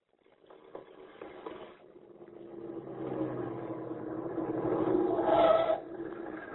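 In an old radio drama sound effect, a car engine idles faintly and then rises slowly in a low, muffled hum, swelling toward the end before it eases off slightly.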